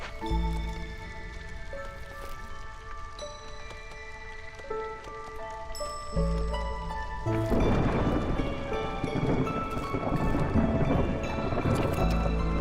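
Rain hisses and thunder rumbles through a storm in the video game Against the Storm, swelling louder partway through over sustained musical tones, with no talking.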